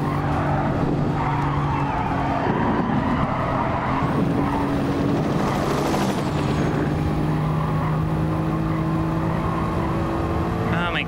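A Gran Turismo race car drifts sideways out of a corner, its engine droning steadily under sustained tire squeal and skidding, with low talk in the background throughout.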